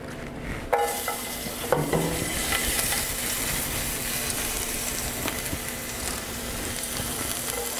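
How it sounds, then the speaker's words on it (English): Mushrooms and garlic sauté in a tablespoon of oil in a pan, giving a steady close sizzle and crackle, with a few clinks and scrapes of a utensil stirring against the pan near the start. "by sauteing the mushrooms, and I'm doing that with my favorite oil"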